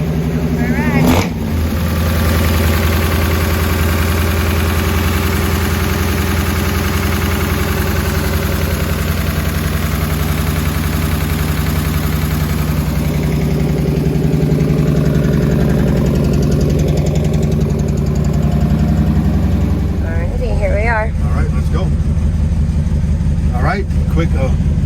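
Restomodded 1946 Chevrolet Business Coupe engine running steadily throughout, a loud, continuous mid-low drone with a brief bump near the start and a shift near the end, while people talk over it.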